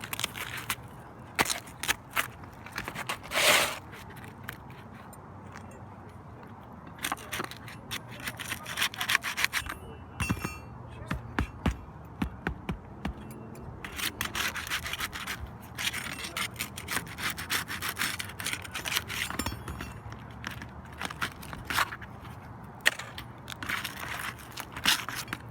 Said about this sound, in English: So we're going to go ahead and take these shingles off.